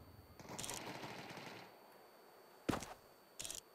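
Bursts of gunfire in the video game Counter-Strike 2: a long rattling volley, then two short sharp bursts after a pause, moderately loud against low background noise.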